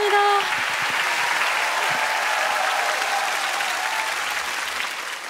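A studio audience at a Korean music talk show claps steadily through a sustained round of applause that fades slightly toward the end, while a voice is briefly heard at the start.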